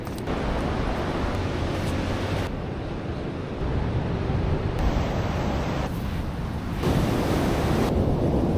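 Ocean surf at a beach in Victoria washes in as a continuous loud roar of breaking waves, mixed with gusty wind buffeting the microphone, with no talk.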